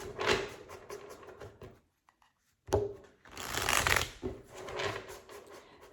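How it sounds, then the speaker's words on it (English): Tarot cards are shuffled nearby in dense riffling bursts with a brief silent break, then a loud sliding flurry of cards and softer shuffling after it. "Let's draw the tarot."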